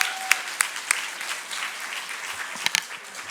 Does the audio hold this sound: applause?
yes